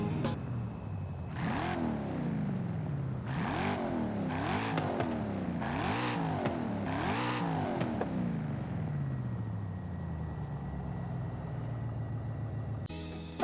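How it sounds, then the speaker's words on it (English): A 2024 Ford Mustang GT's naturally aspirated V8, 486 horsepower with a six-speed manual, in Forza Horizon 5, revs sharply four or five times in quick succession, each rise and fall distinct, then settles into a fading idle. "powering this car, thank God, is a properly natural aspirated engine"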